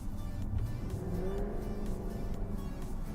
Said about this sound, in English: You got a ton of cracks and pops in that gorgeous, gorgeous baffled exhaust